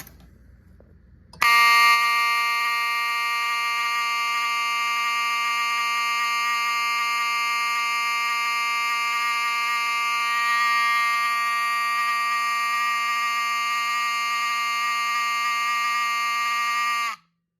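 A 1985 Wheelock 34 fire alarm horn blares one continuous, loud, buzzy tone that starts abruptly and holds steady for about fifteen seconds before cutting off.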